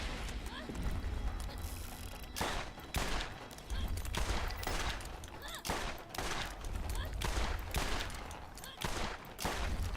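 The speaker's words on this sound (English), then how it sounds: "so I'm going to shoot these guys" Gunfire rings out while enemies are shot in the video game Borderlands, with bursts of rapid shots and mechanical reload clicks. The shots are loud and close over a continuous game soundscape.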